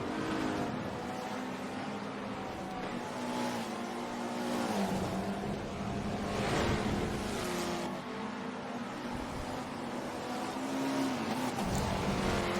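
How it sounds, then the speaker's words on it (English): Touring cars in a racing video game roar past in a steady stream of engine noise, with revving pitch rising and falling as the group goes by, fairly loud and continuous with no voices. "as Numi goes on by the touring car group."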